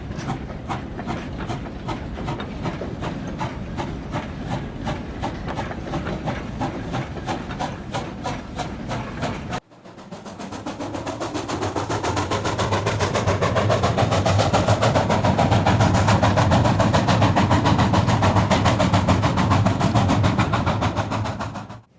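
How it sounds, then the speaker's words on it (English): A coal train at Sandaoling being pushed back along the track toward the blue loader: about ten seconds of steady rhythmic clanking and rubbing of wagons, then a louder, continuous heavy rumble that builds and holds until the end, with no voices. "Once unloading is completed, the train is pushed back to the blue loader"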